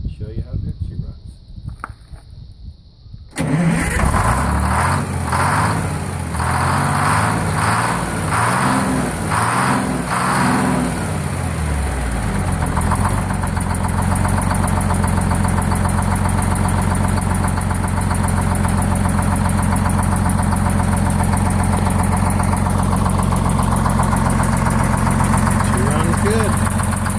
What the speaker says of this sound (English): I'm going to go ahead and start the engine and show you how good she runs.